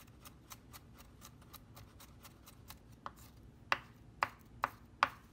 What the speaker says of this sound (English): start with 2 cloves of fresh garlic and mince it